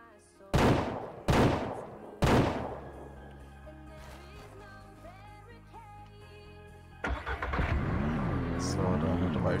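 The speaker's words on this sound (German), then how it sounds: "da haben wir drei Schüsse gebraucht" Three loud gunshots in the ranch simulation game Ranch Simulator ring out about a second apart, followed by a steady game engine hum and music with a speaking voice over it.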